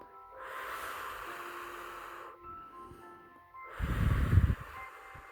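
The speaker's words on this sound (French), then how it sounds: "On inspire et on expire." Slow breaths during a guided relaxation meditation, a long soft inhale and exhale followed by a louder, rougher breath near the end, set against a quiet sustained musical drone.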